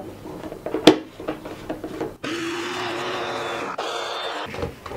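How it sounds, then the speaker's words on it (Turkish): A blender juices chunks of melon: after a few brief clicks and knocks, the motor kicks in abruptly and runs as a loud, steady whir through the rest of the clip, with one short catch partway through. "Kavunları yavaş yavaş blender'a ekleyip suyunu çıkaralım."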